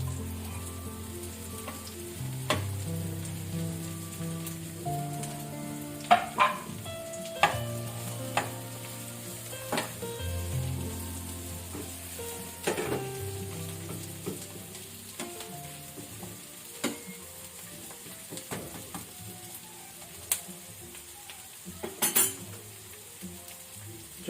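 Mushrooms and marrow fry quietly in a pan, a soft steady sizzle broken by occasional utensil clinks and stirring taps against the cookware.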